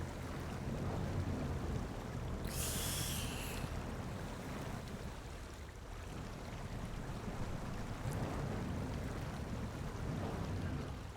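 A Rezvani tank vehicle ploughs through water in SnowRunner on a Maine map, giving a steady rumbling wash of engine and water noise with a brief bright splash early on and no talking.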